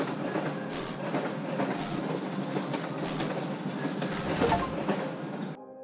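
A train clatters along its rails in the Diorama Builder video game's noir city scene, with a steady rumble and rhythmic clickety-clack close by that ends abruptly.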